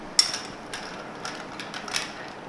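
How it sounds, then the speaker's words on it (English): Ice rattles and clicks faintly as a winter cocktail with Angostura and orange bitters is gently stirred, with a handful of soft, scattered clinks in a quiet room. "We're going to add ice and start to stir gently."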